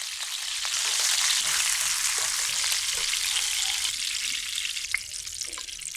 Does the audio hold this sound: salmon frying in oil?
yes